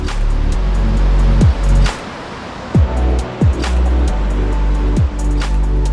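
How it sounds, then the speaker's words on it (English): A river in West Karbi Anglong, Assam, rushes in a loud, continuous wash close by, with brief low thumps and swells breaking through the steady flow. "watching this beautiful river and listening to the flowing water"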